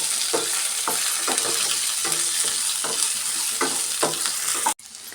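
Ginger, poppy seeds, cinnamon and cloves fry in a pan, a constant close sizzle broken by regular rhythmic stirring scrapes, about two per second, ending in an abrupt cut.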